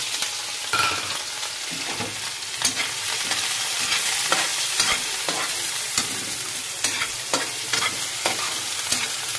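Garlic and onions sizzle in a hot pan for pumpkin soup while a utensil stirs and scrapes through them, a close, steady frying hiss broken by regular stirring clatters.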